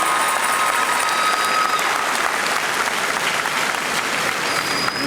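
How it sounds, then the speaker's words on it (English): A large audience at a school district convocation gives sustained applause, a thick, even wash of many hands clapping at once that holds steady throughout. "Give yourselves a round of applause for that."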